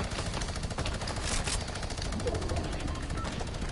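An enemy shooting at the player in a video game fires rapid, continuous machine-gun bursts, a dense rattling barrage that stays loud throughout over busy game noise.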